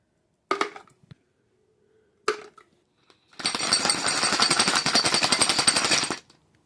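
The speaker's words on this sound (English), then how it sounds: "now I'm going to put all the mounting hardware in my Redneck parts washer" Homemade parts washer cleaning car mounting hardware, heard as a loud, steady rattling buzz lasting about three seconds, preceded by two short clanks of parts being dropped in.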